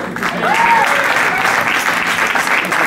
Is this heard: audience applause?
yes